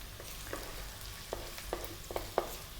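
Garlic and ginger toasting in a pan, a quiet, steady sizzle broken by a few small sharp pops and crackles.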